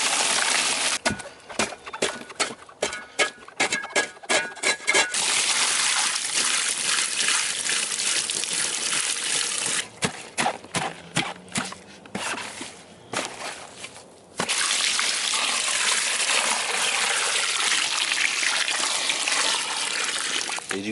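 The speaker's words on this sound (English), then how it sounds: "put your cocoa inside your storage container and hydrate it with water like this" Water poured from a container onto a compressed coco coir brick inside a storage bin, giving a steady gushing, splashing pour for about twenty seconds, broken by brief pauses and scattered knocks.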